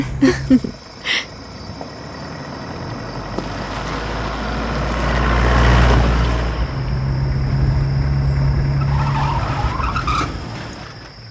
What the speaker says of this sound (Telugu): ఈ కార్ ఏమిటి ఇక్కడ ఆగుంది